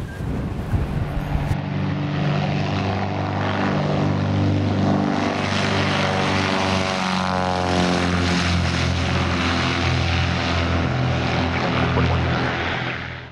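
A propeller airplane drones steadily in flight after departing Brantford, a loud continuous engine roar heard from inside the aircraft that stays constant throughout, preceded by a brief burst of radio-like noise at the start.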